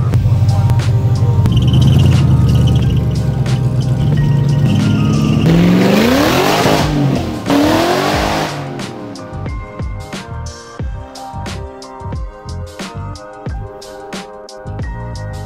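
A loud BMW E30 engine with no muffler revs hard and roars up and down, then settles into a rough, popping idle with sharp bursts.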